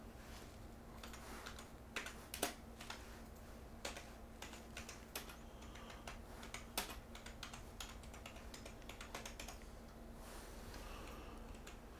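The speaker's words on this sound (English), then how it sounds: "Okay, so I'm typing a project title now." Steady, quiet keyboard typing runs throughout, with irregular soft clicks and a few louder keystrokes over a faint low electrical hum, as someone enters a title for a project on a computer.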